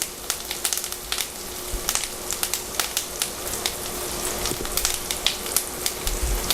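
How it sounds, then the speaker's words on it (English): Carrots sear in a pan over a high flame, a dense crackling sizzle with sharp pops scattered throughout, close and steady with no talk. "Put the flame up high because you want to get a nice sear on that carrot"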